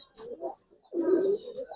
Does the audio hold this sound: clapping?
no